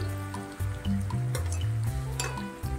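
Chilli chicken sizzles and fries in a pan as chilli sauce goes in, a steady close hiss with light clinks of a utensil against the pan and a low tonal hum underneath.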